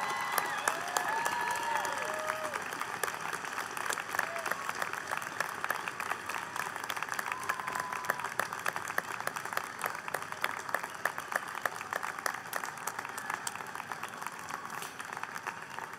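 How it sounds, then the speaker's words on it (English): An audience at a Gabelli School of Business diploma ceremony applauds graduates with sustained, even clapping, some scattered cheers and whoops rising over the crowd's continuous patter. "let's give our graduates a round of applause"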